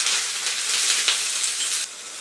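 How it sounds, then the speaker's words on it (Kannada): Chopped onions and tomatoes fry in hot oil for a red chutney, giving a steady, close, bright sizzle that holds throughout and then drops slightly near the end, with no talk. "ನಂತರ ಈಗ ನಾವು ಈರುಳ್ಳಿ ಮತ್ತು ಟೊಮೊಟೊನ 2 ರಿಂದ 3 ನಿಮಿಷಗಳ ಕಾಲ ಚೆನ್ನಾಗಿ ಫ್ರೈ ಮಾಡ್ಕೊಳ್ತಾ ಇದ್ದೀವಿ."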